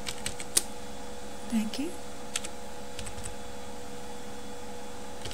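A computer keyboard clicks with sparse, light keystrokes while entering MATLAB code. A voice talks over the typing against a faint steady hum.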